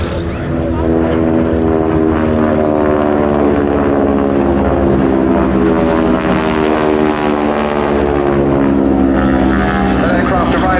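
A Vultee Valiant trainer aircraft flies past at the Duxford Battle of Britain airshow, its radial propeller engine droning loud and steady throughout, with a voice talking over it.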